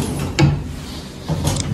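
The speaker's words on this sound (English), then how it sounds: "These are drawers that open." Wooden drawers in a dorm room slide open and shut, giving two short scraping knocks about a second apart against a quiet room.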